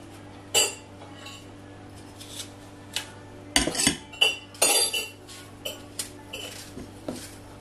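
Knife cuts through half an apple on a cutting board in a home kitchen, giving sparse, close clicks and taps of blade on board with quiet pauses in between.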